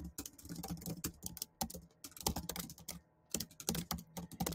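Typing on a computer keyboard, with quick irregular runs of crisp key clicks and short pauses, close and clear with no voices.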